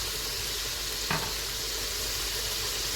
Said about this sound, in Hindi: अब मसाले को हम इतना अच्छा भूनेंगे कोई प्याज भी नज़र ना आए